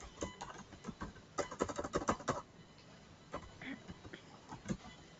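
Keys on a computer keyboard tapped in quick irregular bursts during an Excel spreadsheet formula lesson, the clicks close and fairly clear with pauses between runs of typing.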